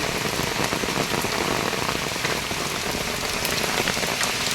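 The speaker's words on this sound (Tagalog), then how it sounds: "Lumalakas na masyadong ulan." Heavy typhoon rain (Typhoon Enteng, Signal No. 2) in Vigan, Ilocos Sur, Philippines pours steadily, a dense, loud hiss of drops drumming on surfaces throughout, with no voices.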